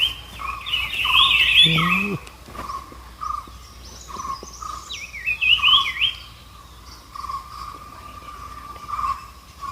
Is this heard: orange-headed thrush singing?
yes